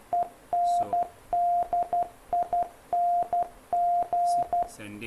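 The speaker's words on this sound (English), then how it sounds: "This is the Morse code, and if I just upload it and play" A single steady tone keys on and off in short and long Morse code beeps played back from a device, with a few faint clicks near the end.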